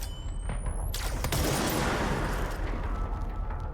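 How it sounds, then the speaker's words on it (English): Enemy gunfire in the video game Control, a steady dense fusillade of shots with a sharp burst near the start, loud and continuous throughout. "Now we've got enemies with guns."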